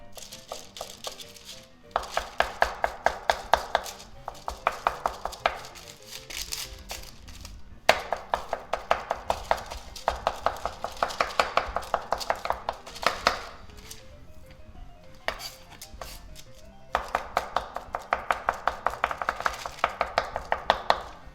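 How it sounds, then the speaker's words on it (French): Knife chopping salmon into tartare on a cutting board, rapid even bursts of sharp taps in repeated runs separated by brief pauses, close and clear. "Je vais couper un tout petit peu de saumon en tartare"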